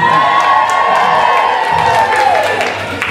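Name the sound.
crowd cheering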